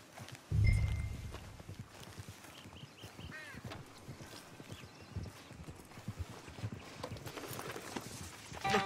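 Horse hooves clip-clop steadily on a track alongside a wagon in Red Dead Redemption 2 on PS4, a quick nearby rhythm opening with a brief loud thump and a whinny-like note, continuing under soft ambience.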